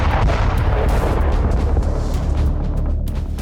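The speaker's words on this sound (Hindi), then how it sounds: "रशियन नेवी ने इस एक धमाके के साथ दो सफल परीक्षण किए।" A Russian navy missile test striking an island target sets off a loud, deep, rumbling blast that keeps booming and roaring for several seconds before slowly easing off.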